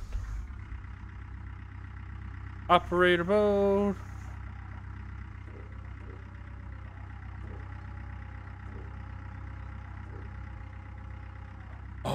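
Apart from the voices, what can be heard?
excavator engine idling in Gold Rush video game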